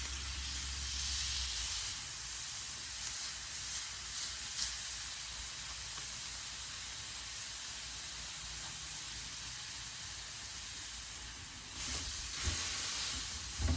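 Four quarter-pound burgers fry on a Blackstone griddle, giving a steady soft sizzle and hiss throughout with a few small pops and scrapes, close by and without talk.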